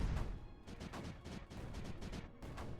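Mortars fire in the video game Creeper World 4 as a quick run of faint, repeated thumping blasts that overlap into a busy, steady barrage with no talking.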